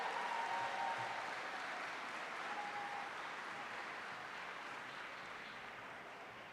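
An audience at an education awards ceremony applauds the educators, a steady wash of clapping that stays loud and fades only slightly over several seconds.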